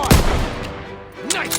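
World War II combat in the video game Call of Duty WW2, with sharp gunshot bursts near the start and again near the end, separated by a fading echo of battle noise.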